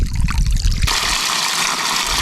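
Water gushes and trickles out as muck is drained on an abandoned farm in Portugal, a loud close rush of running water that turns brighter and hissier partway through.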